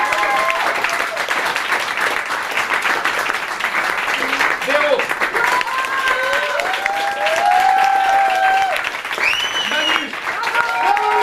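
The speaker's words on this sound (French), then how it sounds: "On applaudit." A school theatre audience at an end-of-year student performance claps continuously for about eleven seconds, a dense moderate applause with speech and calling of names over it.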